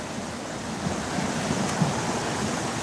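Rushing mountain valley stream at Jirisan Daeseonggol, a steady broadband roar of flowing water that continues unbroken and fairly loud throughout, with no voices.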